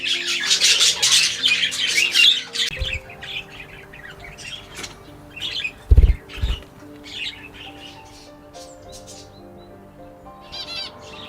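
Pet budgies and finches chirp and tweet in a busy, overlapping chorus, with a dense burst of high calls at the start and a couple of close wing flaps midway, no talk.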